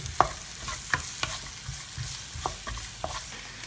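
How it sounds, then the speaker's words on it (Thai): Stir-frying in a pan as the base for a gravy sauce, with a constant light sizzle and intermittent scraping and tapping of a utensil against the pan, close up and without any talk. "ผัดไปเลยครับให้มันหอมนะครับผม"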